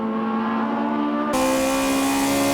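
Toyota AE86 Hachi-Roku race car at Tsukuba circuit in an N2 race, its engine droning loud and steady with a strong harmonic whine that jumps up in pitch and brightness midway as it is pushed hard.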